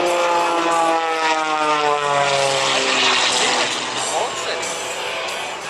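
An aerobatic propeller aircraft at the Wings Over Illawarra 2021 air show drones loudly and steadily overhead, its engine pitch rising and shifting as it maneuvers, with a voice talking over it.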